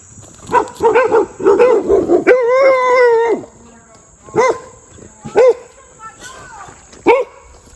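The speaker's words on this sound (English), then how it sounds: "Do these dogs bite?" Several dogs bark up close in rapid bursts, with a drawn-out howling whine in between and then scattered single barks. People speak intermittently under and between the barking.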